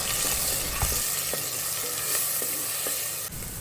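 Ginger, garlic and green chili paste sautéing for chicken curry, a steady broadband sizzle with occasional spoon scrapes and stirs, close and continuous throughout.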